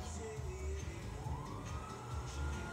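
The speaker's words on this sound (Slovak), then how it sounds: "To policajné auto je jaké dobré?" A police car siren wails faintly with a slow rising tone, partly masked by a steady low rumble of traffic or engine noise and with no voices.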